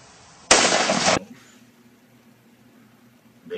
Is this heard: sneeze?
no